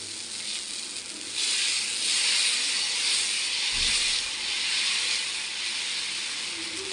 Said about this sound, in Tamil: இப்போ நம்ம அடை மாவை ஊற்றிக்கலாம்.